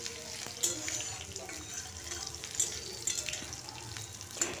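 Crushed garlic sizzles in hot oil for lentil dal, a soft continuous frying hiss with occasional light clinks of a spoon against the pan, close but quiet.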